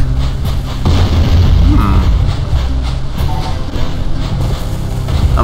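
Cannon fire booms in the Jak & Daxter video game, a loud, continuous low rumble of blasts and impacts running through the whole stretch with no pause.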